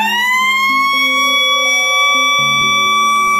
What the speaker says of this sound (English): the siren does not shut up until you press a button on it